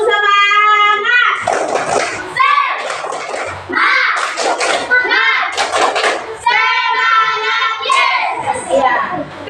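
Indonesian fourth-grade schoolchildren in a classroom chant together while clapping a rhythmic 'tepuk semangat' pattern, loud and close, with bursts of sharp hand claps between sung voices and a teacher's talk.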